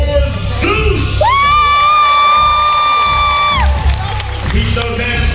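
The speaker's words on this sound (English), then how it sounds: "make some noise for Zeus" Crowd at a live event cheering and whooping for a performer, loud and continuous, with children shouting and a few high yells rising over the roar.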